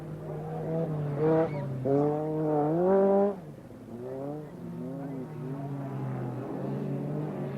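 Turbocharged touring cars race in the 1981 European Rallycross A Final at Lydden Hill, their engines a steady, moderately loud drone with rising and falling pitch sweeps as they accelerate and lift.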